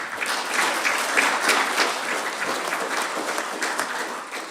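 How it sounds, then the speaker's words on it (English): Audience applause at a city council meeting, a dense, steady wash of clapping from a room full of people, loud and sustained throughout without speech over it. "So they deserve a big round of applause"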